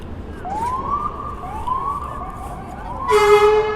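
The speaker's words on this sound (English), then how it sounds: "FDNY ambulances have air horns now." An FDNY ambulance in New York City sounds a rising wailing siren several times, then lets out a loud, brassy air horn blast, heard over street noise.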